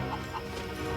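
Cartoon chickens cluck steadily through a short, dense stretch of barnyard noise, close and fairly loud with no talk over it.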